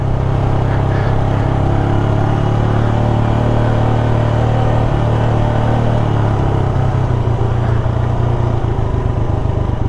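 A motorcycle, named Nova, on a ride through the mountains of Tublay, Benguet. Its engine gives a loud, steady, close-up rumble, with wind buffeting throughout and no speech.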